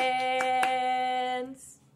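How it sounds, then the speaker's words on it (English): Hands clap twice along to a sung children's song, two sharp smacks landing over a steady melodic voice that fades out near the end. "clap your hands"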